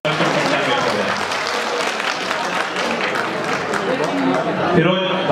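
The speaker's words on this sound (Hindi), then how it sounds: "तो आप लोग ताली बजा दें इन सब लोगों के लिए" Sustained applause fills a hall at a Jharkhand Day celebration in Mumbai, with a dense, loud crowd clapping steadily throughout.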